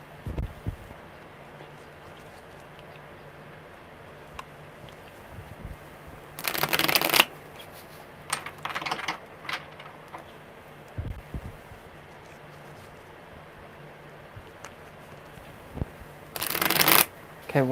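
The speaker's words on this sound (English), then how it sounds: "Good shuffles." Cards are riffled and shuffled in a few short, crisp bursts, separated by quiet stretches with faint handling noise.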